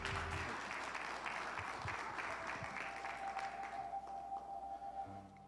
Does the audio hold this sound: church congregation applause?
yes